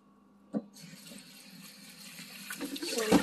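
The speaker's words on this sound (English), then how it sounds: "so make sure we're gonna soak this with water, just like with the potato" Tap water runs into a sink to soak vegetables for a chicken adobo and beef nilaga meal, starting after a brief knock and growing gradually louder and splashier over a few seconds.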